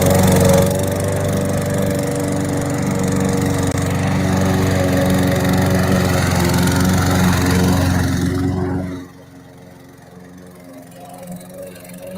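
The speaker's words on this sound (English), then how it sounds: "It's 30 minutes of him just mowing the damn lawn" A lawn mower drones steadily as it cuts grass, a loud continuous engine hum that drops away sharply near the end, leaving faint background noise.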